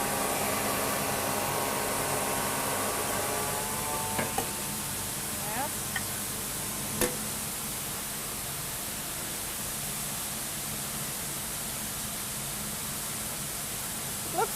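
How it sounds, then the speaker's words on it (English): A coffee grinder grinding freshly roasted coffee beans, a steady, loud whirring hiss that runs unbroken throughout with a few faint clinks. "So now we are grinding the coffee"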